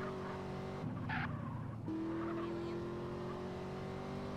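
Cars in the video game GTA San Andreas sound an engine drone with a brief tire squeal and skid lasting about a second, then the steady engine tone continues, faint and game-like throughout.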